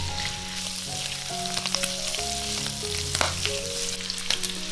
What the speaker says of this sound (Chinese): 炒到鱿鱼卷起来。